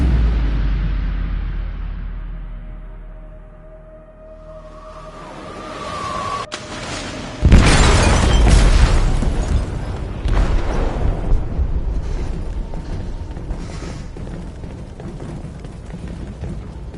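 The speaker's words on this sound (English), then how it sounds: "They detonated an explosive in the hold." Explosion deep in a cargo ship's hold in Detroit: Become Human, a loud booming blast that bursts in suddenly after a low rumbling buildup, followed by a long roaring, crackling wash of debris and rumble that slowly fades.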